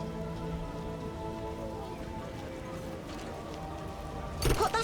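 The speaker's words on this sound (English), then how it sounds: "How sad when it rains." Steady rain patters on surfaces in The Witcher video game, a continuous hiss of droplets under a low, sustained musical tone, with a louder splash-like burst near the end.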